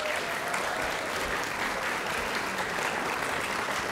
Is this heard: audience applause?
yes